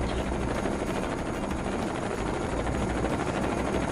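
A helicopter hovers close overhead in the tactical shooter SWAT 4, its rotor thumping in a rapid, loud, continuous beat that drowns out everything else.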